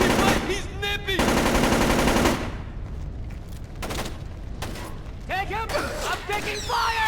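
Video game gunfire from Splinter Cell Chaos Theory comes in rapid automatic bursts and sharp shots, mixed with crashes and shouting voices.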